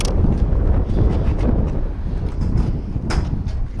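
Strong wind buffets the microphone in heavy, rumbling gusts, loud and close throughout with no other clear sound.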